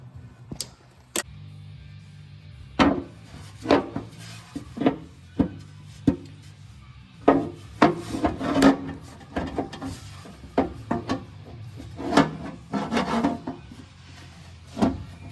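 Plastic oil pan locating pins being trimmed under a big-block Chevy squarebody truck, a series of irregular close scraping and cutting rasps with short pauses between, no talk.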